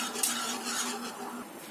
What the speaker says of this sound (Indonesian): kita aduk sampai mendidih atau mengental ya, sambil terus diaduk